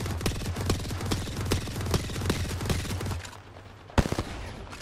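Rapid automatic gunfire in Apex Legends, aimed at an evac ship, crackles in dense bursts for about three seconds. It drops to a low hum, then one sharp shot cracks near the end.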